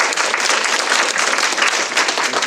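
An audience at an academic lecture on AI-assisted measurement methodology claps steadily to welcome the speaker. The applause is dense and sustained throughout, with no talking over it.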